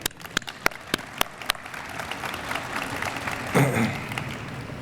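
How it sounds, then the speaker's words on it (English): Audience at a rural water association address breaking into applause, starting with a few scattered claps that swell into steady, full clapping from a crowd in a hall. "I'd like to give each of you a round of applause for all of that."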